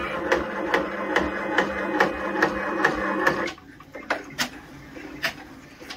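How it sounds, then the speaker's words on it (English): A Brother PR1055X ten-needle embroidery machine stitches a personalized premade bib in a 4.25 Mighty Hoop, its needle ticking in a fast steady rhythm that later slows into sparser, sharper clicks, close and without talk. "So I'll go ahead and start the machine,"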